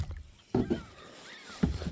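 A kayak paddles through a channel on Cavan Lake, with a few distinct close splashes from the paddle strokes over quiet water.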